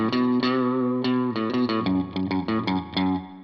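An electric guitar played through a Line 6 POD Express with reverb engaged, a sustained chord followed by a series of rhythmic strummed hits, each tail blooming with wet, spacious decay.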